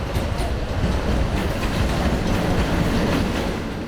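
Train rolling through a railway station near the Ukraine border, a steady, loud rumble with clattering wheels that fills the whole stretch, with no voices on top.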